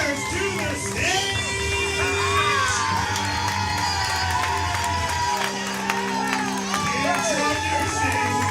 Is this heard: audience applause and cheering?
yes